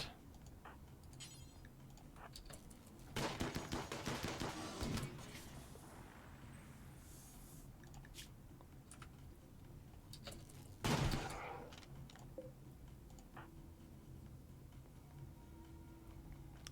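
Needle gun firing in RimWorld on sea ice, two bursts of sharp rapid shots around four and eleven seconds standing out over quieter game ambience.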